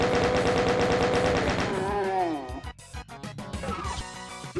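Rapid semi-automatic gunfire from zombie enemies in the video game Doom, played on the Bloodstain map set, rattles loudly over a sustained musical tone, then gives way to scattered, irregular game noises with no talk.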